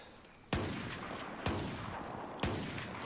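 SPAS-12 shotgun blasts in Battlefield 4, three heavy booming shots spaced roughly a second apart, each trailing into a rumbling decay over continuous battlefield ambience.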